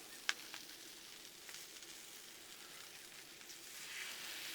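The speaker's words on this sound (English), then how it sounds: "Now let's go ahead and throw them steaks on there." Steaks searing on a hot Blackstone griddle with no oil, giving a faint, steady sizzling hiss with a single sharp tick near the start and a slight swell toward the end.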